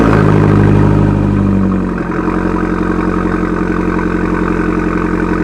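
A 2017 Abarth 595 Trofeo engine and exhaust run loud and close at a steady rumbling idle. The tone settles slightly lower after a couple of seconds and then holds an even throb.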